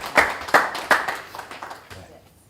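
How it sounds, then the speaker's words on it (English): At a mental health and criminal justice community conversation, a small audience claps in a few distinct close bursts that quickly thin out and fade, with light voices underneath. "can we give them a hand clap, guys, for thanking them"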